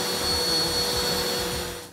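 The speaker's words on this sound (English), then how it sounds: "80 decibels is about the sound of a vacuum cleaner" A steady vacuum cleaner drone with a high whine, running loud and unbroken before trailing off at the very end.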